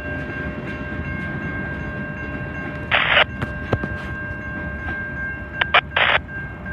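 A freight train moving out of a rail yard onto the main line, with a low rumble of cars and several short, loud horn blasts partway through.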